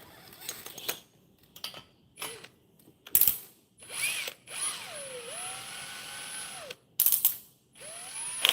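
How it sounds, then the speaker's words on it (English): Ratcheting clicks and a torque wrench working the cylinder head bolts on a Predator 212cc small engine, with several separate bursts of clicking and metallic tool noise close up and quiet gaps between them. "I guess I should torque the head bolts, right?"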